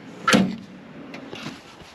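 A storage drawer on a Maverick camper trailer slides open or shut with one sharp clunk near the start, then faint softer knocks afterward.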